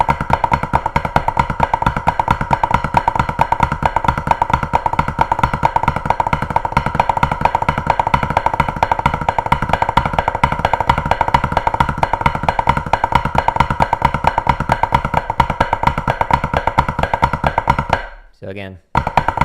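Snare drum flam taps played continuously at a steady, dense rhythm, one hand gradually slowing so the strokes drift out of phase; loud and close throughout, cutting off abruptly near the end.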